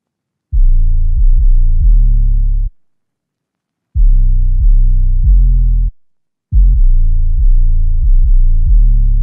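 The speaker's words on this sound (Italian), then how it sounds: "Poi abbiamo il basso, suona semplicemente le note degli accordi." Deep synthetic bass notes following the chord roots in a drill beat, loud and close, playing short clustered phrases of sustained tones separated by brief silences, with no other instruments or voices.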